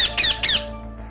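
A cartoon parrot squawks three times in quick succession, loud and close, each call a bright shrill screech. A forest scene from an animated moral tale, with no talking during the calls.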